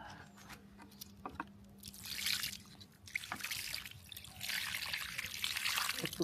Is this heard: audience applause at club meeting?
no